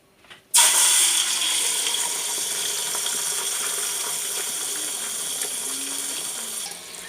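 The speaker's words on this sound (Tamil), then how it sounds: "எண்ணெய் நல்லா சூடாயிடுச்சு. இப்போ வந்து அடித்து வச்சுருக்க முட்டை ஊற்றிக்கலாம்." Beaten egg hits hot oil for mutton fried rice, bursting into a loud, close sizzle that starts abruptly and holds as a steady bright hiss.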